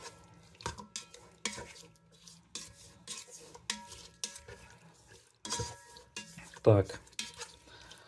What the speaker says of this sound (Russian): А тут вот так буду перемешивать.